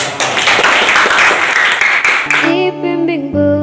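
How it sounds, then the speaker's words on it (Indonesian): A group applauds loudly in a classroom-style setting, dense clapping for about two and a half seconds before giving way to a sung melody with steady tones. "Oke, tepuk tangan semua."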